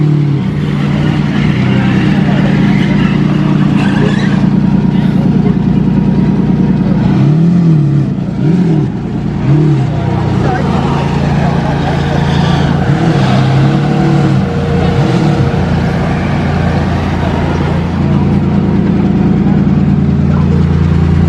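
A Maserati MC12 supercar's engine rumbles loudly at the casino square in Monaco, idling with repeated revs over a busy crowd, with people talking nearby throughout.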